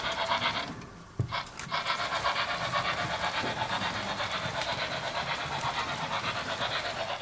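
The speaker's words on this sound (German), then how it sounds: "Man kann also sehen, wie der Zug jetzt hier rüberfährt." A Märklin H0 model train, locomotive 05003 pulling a long-distance express, runs on a layout track with a steady rhythmic rolling clatter, close and continuous throughout.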